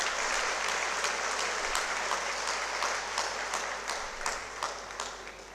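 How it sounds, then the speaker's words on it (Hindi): Audience applause at a children's medal ceremony: dense, sustained clapping from a crowd, steady and fairly loud throughout with no talk over it. "एक बार फिर से सभी के लिए जोरदार तालियां बजाएं"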